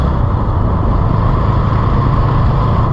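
A vehicle comes toward the rider on a winding dusty mountain road near Shimla, its steady engine rumble loud and continuous, mixed with broadband road and wind noise throughout.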